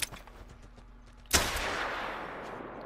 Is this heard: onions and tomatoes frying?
no